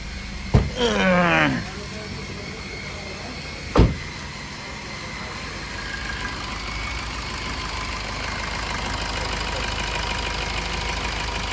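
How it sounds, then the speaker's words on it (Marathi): A Maruti Swift VDI diesel car, just back from a routine service, starts after a couple of short cranking bursts and then idles with a steady, close engine drone. "तर सर्विस झाल्यानंतर आपण सेल्फ मारून गाडी चालू करतोय."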